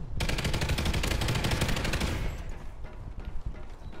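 In the Call of Duty Ghosts video game, a dense burst of rapid automatic gunfire rattles loudly for about two seconds, then gives way to scattered shots and game noise.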